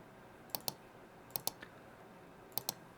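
Three quick double-clicks from a computer mouse, each pair sharp and close, spaced about a second apart over a quiet room hum, with no talking.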